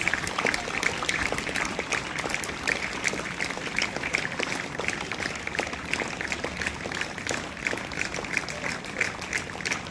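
An audience at a First Aid Day award ceremony applauds as a student receives an incentive prize, with continuous, moderately distant clapping that holds steady throughout.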